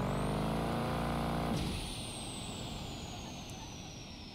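A truck engine in the BeamNG Drive video game, overpowered by a stage 3 variable turbocharger, drones steadily and strains, then drops to a lower, quieter rumble with a faint high whine.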